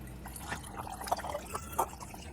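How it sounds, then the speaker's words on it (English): Water poured into a mead-fermenting jug to about halfway, a soft, faint trickle and gurgle of liquid with a few small splashy bubbles, close and quiet. "Now to this, I'm gonna add some water, get it about halfway up"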